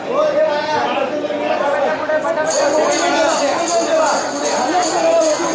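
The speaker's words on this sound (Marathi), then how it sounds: "भाविकांची आपण गर्दी पाहू शकतो।" A dense crowd of devotees chatters at the Tembhi Naka goddess festival, an unbroken babble of many nearby voices that stays steady and lively throughout.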